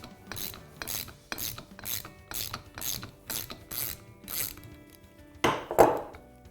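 A ratchet wrench clicks in repeated quick strokes while loosening the fork cartridge bolt on a Suzuki DR650 motorcycle, close and distinct, ending in a louder rattling click.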